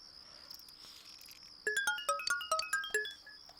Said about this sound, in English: Crickets and beetles.